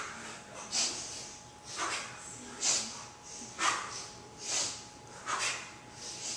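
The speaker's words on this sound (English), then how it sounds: "that's when you sniff" Sharp nasal sniffs drawn in during kettlebell snatches, six quick inhales spaced about a second apart, close and fairly loud, each cutting through a steady low room hum.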